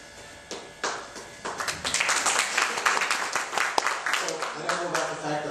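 An audience claps at a candidate forum for the Shoreline Caucus, scattered at first and then swelling into dense, sustained applause that fades slightly toward the end.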